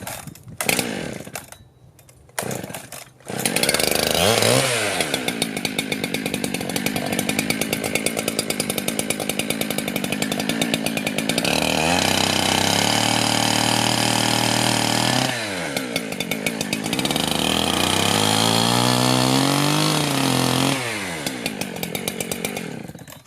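A Norwood portable sawmill cuts short logs, its blade screaming loud and continuous through the wood after a few brief starts, with the pitch dipping and rising as the cut loads and frees, and no talk.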